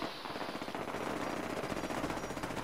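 A high-piercing rifle fires rapidly in a video game, a dense, continuous stream of loud shots that carries on without a break, with no speech over it.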